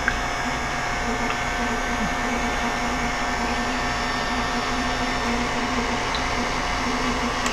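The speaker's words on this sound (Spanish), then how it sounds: "echar las claras y las vamos a batir a punto de merengue" An electric mixer whips egg whites into meringue for a sponge cake, running as a steady, loud motorized whir that stays even throughout with no voices.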